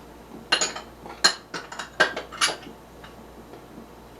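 A utensil clinks and taps against a mixing bowl while ground ginger and baking soda are stirred into cocoa gingerbread cookie dough, giving several sharp, close knocks at an uneven pace with no voices.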